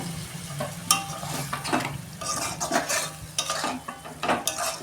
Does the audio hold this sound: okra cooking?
yes